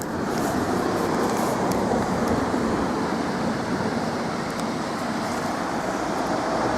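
Afon Conwy in Wales runs at low water, a steady broadband rush of flowing river mixed with wind buffeting the microphone, continuous and fairly loud throughout.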